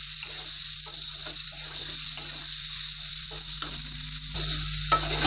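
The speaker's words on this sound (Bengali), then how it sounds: "একটু হলুদ গুঁড়ো দিয়ে দেবো দিয়ে ভালো করে আর আলুটাকে লাল লাল করে ভেজে নেব" Potatoes frying with turmeric for a pumpkin and prawn dish, making a continuous hiss with brief stirring scrapes, steady and moderately close, and a louder rush near the end.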